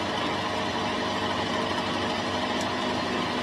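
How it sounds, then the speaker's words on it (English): Manual machining of chopper risers for a rigid Triumph build, making an interrupted cut over the pinch bolt holes: a steady, dense mechanical whirring and chattering that runs continuously without any talk. "Nice interrupted cut over those pinch bolt holes."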